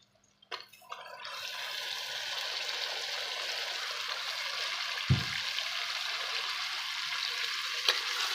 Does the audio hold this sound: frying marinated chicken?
yes